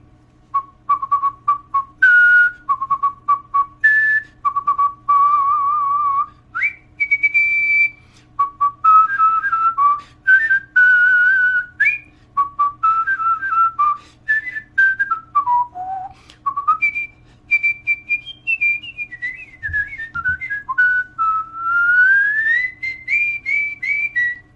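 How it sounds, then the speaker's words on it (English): A person whistles the Happy Birthday tune solo, clear and close, with a steady melodic line of sustained and stepping notes over about twenty-five seconds and no talking. "Do you think you could whistle for 5 seconds a tune,"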